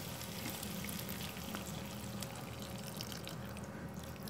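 White wine and broth sizzling in a pan during shrimp cooking, a steady, quiet crackling hiss with faint bubbling and drips, continuous with no voices.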